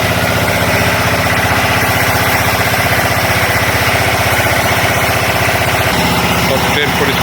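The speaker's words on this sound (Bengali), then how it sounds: "হ্যাঁ এই যে ইঞ্জিন আসছে, ইঞ্জিন লাগানো হবে, এখন কাপলিং হবে।" A locomotive engine runs at Chennai Central station with a loud, continuous idling rumble and a steady deep throb throughout, and a brief louder clank near the end.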